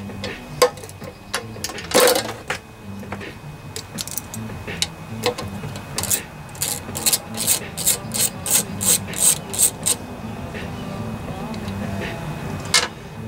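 A 3/8 ratchet backing out a carburetor mounting bolt on a Briggs and Stratton lawnmower engine, with rapid clicking runs in bursts of tight ratchet strokes close up, plus some handling noise.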